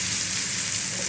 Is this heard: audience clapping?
no